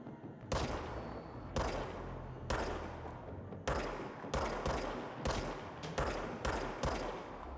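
Repeated bursts of gunfire from the service weapon in the video game Control, about a dozen sharp, loud shots coming in irregular clusters, with no talk over them.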